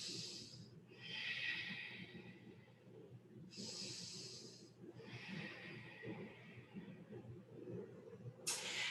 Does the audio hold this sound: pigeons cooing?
no